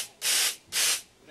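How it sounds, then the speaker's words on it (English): Two short, loud hissing bursts of nitro spray on a drag racing vehicle, each lasting about a third of a second with a brief pause between, close and sharp against a quiet background. "That little nitro right here, this is a little spray of that thing right here"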